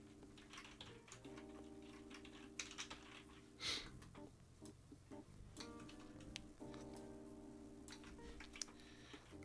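Clicky computer keyboard typing during a relaxed coding session, with rapid irregular keystrokes, soft and close, under steady background music and without any talking.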